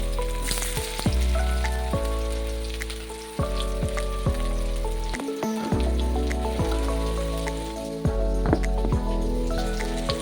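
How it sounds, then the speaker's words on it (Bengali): Chopped onions fry in hot oil in a pan, making a continuous, close sizzle with a steady tonal backdrop and a brief dip partway through. "তেলও গরম হয়ে গেছে, তার মধ্যে দিয়ে দেবো পেঁয়াজ কুচি"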